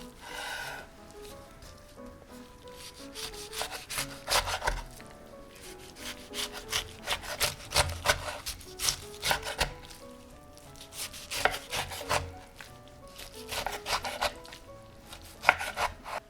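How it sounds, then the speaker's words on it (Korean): Kimchi being cut into pieces for kimchi stew, heard as a series of close rasping, sawing knife strokes in uneven bursts, with no talking. "김치를 적당한 크기로 잘라줍니다"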